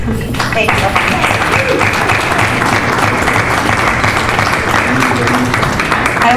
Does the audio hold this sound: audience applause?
yes